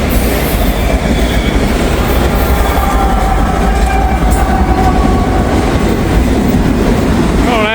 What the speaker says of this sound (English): Always a long one. DPU coming through.